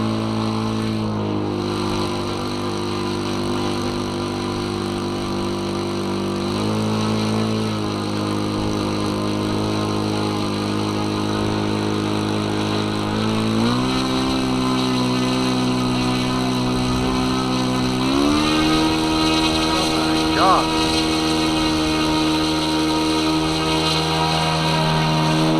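Kadet LT40 model aircraft engine running steadily at a flying club, a continuous buzzing drone with stepped changes in pitch as the throttle is adjusted, fairly loud throughout with no talk.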